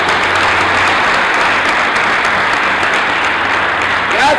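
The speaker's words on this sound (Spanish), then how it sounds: "a quien también yo pido que le demos un fortísimo aplauso de cariño" A large audience at a national community culture gathering breaks into loud, dense, sustained applause, a continuous wash of many hands clapping close by with crowd noise mixed in.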